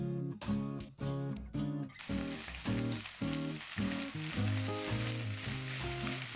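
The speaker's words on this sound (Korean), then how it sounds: "프라이팬에 기름을 살짝 두르시고 양배추를 먼저 볶아주세요." Cabbage stir-fries in a lightly oiled frying pan, a loud, continuous sizzle close up with rhythmic scraping and clanking of a utensil stirring against the pan.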